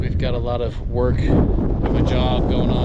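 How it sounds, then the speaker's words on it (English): Strong wind buffeting the microphone with a continuous roaring rumble outdoors in Grand Junction, Colorado, while someone talks over it. "Sorry about the wind. It is windy today."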